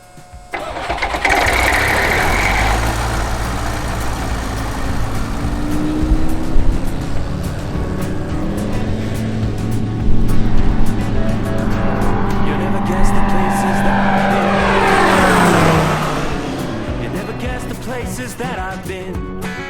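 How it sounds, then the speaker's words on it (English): A Rotax 915iS engine on a KFA Safari light aircraft starts with a cranking whir and catches into a steady running drone, with a rising whine near the end, under speech and music. "Please stay clear of my propeller. I may commence engine start."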